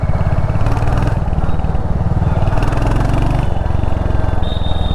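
A 2022 Royal Enfield Hunter 350 motorcycle engine runs close and loud with a steady, low thumping pulse that holds even throughout.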